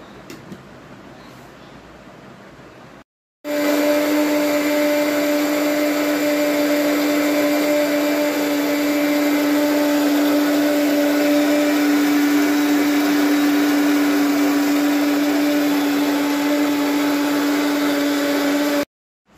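A loud mixer grinder blends mango for ice cream, whirring steadily for a long stretch with a steady motor hum and high whine, starting abruptly after a quieter moment and stopping sharply.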